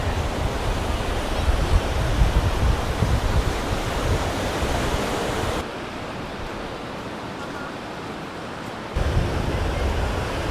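Strong wind roars across the beach at Alcudia Bay, Mallorca, mixing with surf on the shore, loud and steady before easing for a few seconds and then gusting back.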